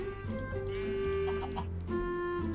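Chickens in the Minecraft video game cluck in short repeated bursts, close and fairly loud, with tonal game sounds running underneath and no speech.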